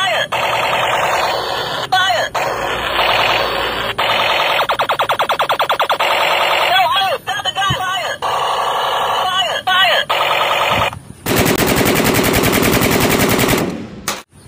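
A toy AK-47 fires loud electronic machine-gun bursts, rapid repeated shots mixed with siren-like warbling tones, playing almost continuously with brief gaps and a harsher burst near the end.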